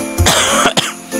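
Two sharp, close coughs with a throat-clearing rasp, heard loudly and alone in a brief burst during online gaming.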